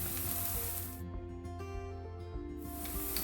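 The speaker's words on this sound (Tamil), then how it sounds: "இப்போ எடுத்து வச்சுருக்கிற 2 மேசக்கரண்டி கறி பவுடர் இதுக்குள்ளே போடுறேன்." Curry powder sizzles in hot oil and tomato paste inside a clay pot while tuna curry cooks, a steady close hiss that runs unbroken throughout with some faint clatter beneath.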